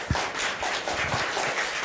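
Studio audience applause for a contestant on a French game show, a short steady wash of clapping at moderate level with no talk over it.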